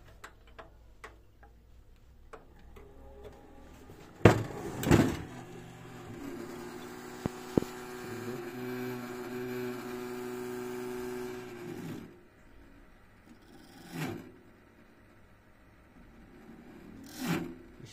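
A desktop computer's CPu cooling fan spins up to a low steady hum for several seconds before stopping, with scattered clicks and faint ticking around it and no voices.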